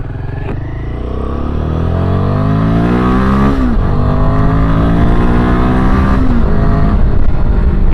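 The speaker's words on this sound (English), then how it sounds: "Such a lovely intake roar." A Royal Enfield Himalayan 450 engine revs up through rising pitch sweeps, the throttle blipping and climbing repeatedly with a loud, throaty intake roar close by.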